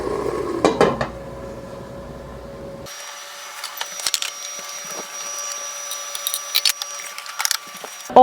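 A spatula scrapes across a pan while meat browns, a low steady hum opening before a run of close, uneven metallic scrapes and clinks that carries on to the end.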